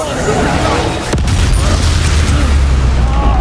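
A Confringo blasting spell bursts in Hogwarts Legacy as a loud, dense roar of noise with a sharp transient, then a deep rumbling boom that sustains beneath it. A voice speaks over the blast.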